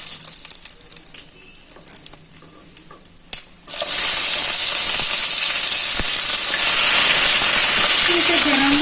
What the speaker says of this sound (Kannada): ಇದನ್ನು ಸ್ವಲ್ಪ ಫ್ರೈ ಆಗೋ ಹಾಗೆ ಮಾಡಿಕೊಂಡು ಇದಕ್ಕೆ ಹಸಿ ಮೆಣಸಿನ್ಕಾಯಿ ಏನು ಇಟ್ಕೊಂಡಿದ್ದೀನಿ ಅದನ್ನು ಹಾಕ್ತೀನಿ